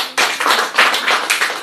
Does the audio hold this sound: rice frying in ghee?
no